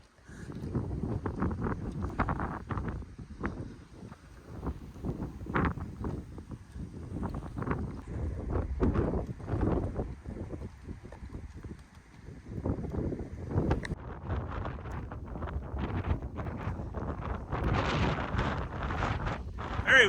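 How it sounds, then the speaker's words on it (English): Strong wind gusts buffet the microphone outdoors at a South Dakota pioneer town site, a steady loud rumbling roar with surging bursts throughout and no speech. "Very windy."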